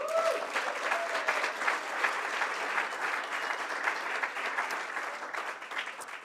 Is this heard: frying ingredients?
no